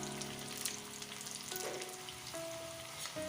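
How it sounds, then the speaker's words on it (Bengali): Food deep-frying in a kadai filled with oil gives a steady, continuous sizzle throughout, close and fairly quiet, with no talking over it. "এরকম কড়াই ভর্তি তেলে এগুলো ভেজে নিতে হবে।"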